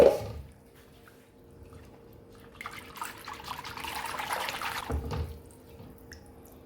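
Water runs and splashes into a cooking pot for vegetable kadhi, starting after a brief knock and building to a steady pour before tapering off.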